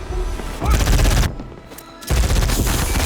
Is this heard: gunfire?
yes